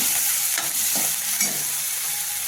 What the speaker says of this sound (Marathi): आपण याच्यामध्ये टाकू आता कढीपत्ता छान